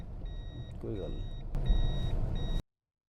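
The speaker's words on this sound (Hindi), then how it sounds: "मेरे इरादा कि इधर रिवर्स गाड़ी लगाते हैं जी" A vehicle reversing near hotels by a riverside parks with a steady, repeating reverse alarm beeping throughout under engine rumble, a brief voice passing in the middle, the sound cutting off abruptly near the end.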